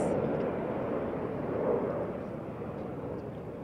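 An aircraft flies overhead during an aerobatic display at Airshow Zhuhai 2018, giving a sustained, distant engine roar that swells slightly midway and then eases, set against open-air wind and crowd ambience.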